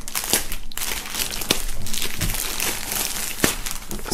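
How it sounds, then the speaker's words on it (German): A pullover is pulled out of its plastic foil wrapping during an unboxing, giving continuous close crinkling and rustling with a few sharper crackles, and no talk over it. "nachdem hier einmal der Pullover noch in Folie ist, holen wir den hier raus."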